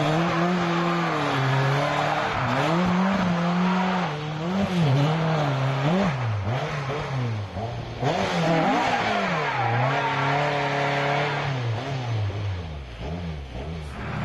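An Opel rally car drives on a slippery forest stage at the Wyedean Forest Rally, its engine revving up and down repeatedly with tires squealing, loud and close throughout, with no talk.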